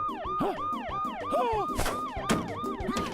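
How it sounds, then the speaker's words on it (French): A wailing police car siren from an animated children's cartoon rises and falls in a fast repeating cycle, with a cartoonish tone and some clatter mixed in. "Je vais activer la sirène."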